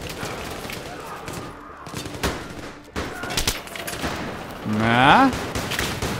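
Scattered gunfire in the military shooter Battlefield 3, irregular sharp shots and short bursts at mid distance. A voice briefly speaks over it near the end.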